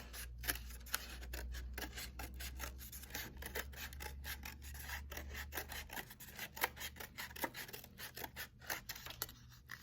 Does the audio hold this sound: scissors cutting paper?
yes